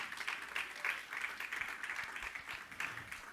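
A church congregation claps along in a steady rhythmic beat during a worship service, the claps repeating evenly and moderately loud in a reverberant hall, with no clear speech.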